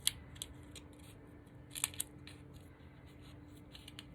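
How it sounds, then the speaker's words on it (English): Scissors snip the small edges off handmade gnome shoes, giving a few sharp, close cuts spread across a quiet room, with a quick pair of snips near the middle. "I'm just trimming these little edges off"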